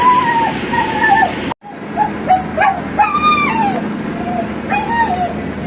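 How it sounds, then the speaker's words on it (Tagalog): A dog barking and yipping outdoors in Mindanao, several short, sharp barks spread through the clip, close and loud over faint background noise. "Ay, may aso dito."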